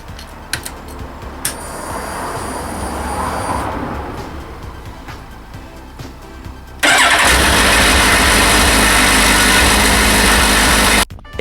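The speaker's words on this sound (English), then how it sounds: "we need to start the bike up and warm up" Yamaha GTS 1000 motorcycle engine heard first with faint mechanical ticks and a low rumble, then roaring loudly into life and holding a steady, dense idle before cutting off abruptly near the end.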